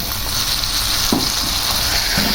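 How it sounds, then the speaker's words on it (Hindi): Masala spices fry with minced meat in a pan, a constant bright sizzle filling the clip at close range, with a few soft stirring scrapes breaking through under the hiss. "मसाले को हमने बीच में फ्राई कर लिया"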